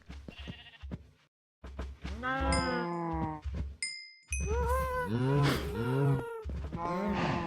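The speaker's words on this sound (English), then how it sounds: "We got some new cows" Cows in Minecraft moo repeatedly, several drawn-out low calls overlapping in quick succession, with short bright chimes between, loud and close.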